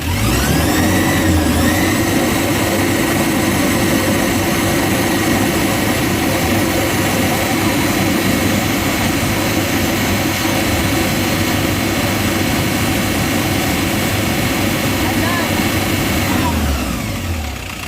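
An Isuzu Trooper engine, after an oil pressure fault, idles up and holds a steady 3000 RPM with a loud, even drone that stays constant for the whole stretch before easing slightly at the end.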